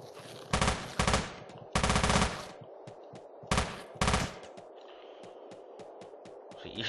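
Gun in the Teleglitch video game firing in short loud bursts, rapid machine-gun-like volleys separated by brief pauses, alongside fainter single thuds between bursts.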